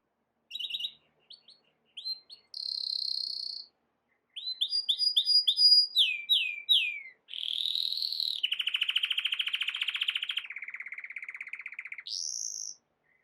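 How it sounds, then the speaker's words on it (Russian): A canary sings alone, close and clear, in bright varied phrases: quick chirps and trills, sweeping whistles, then long buzzing rolled trills, with short silent gaps between bursts. "Канарейка."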